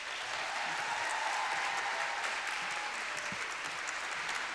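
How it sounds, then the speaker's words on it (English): An audience at an evening tribute event fills the room with sustained applause, a dense steady clatter of clapping heard from a moderate distance and held at even loudness. "please, another big round of applause for Ms."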